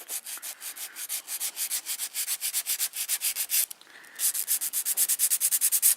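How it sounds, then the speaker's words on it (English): Rapid back-and-forth strokes of a file shaping a short almond-shaped fingernail, steady rhythmic scratching with one brief pause before the strokes resume, very close. "I've got a little bit of filing to do on this one."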